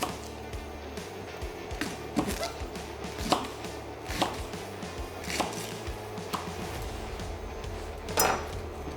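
A knife chops a washed, shredded leek into large chunks on a board for a veal blanquette, with steady close thuds about once a second and no voices.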